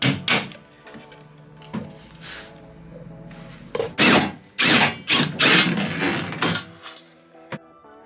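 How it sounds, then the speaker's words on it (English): Power screwdriver whirring and squealing in bursts while backing screws out of plastic ceiling panels inside a school bus, with clunks and rattles of loosened parts, close and fairly loud. "I went right to the plastic and continued to unscrew screws."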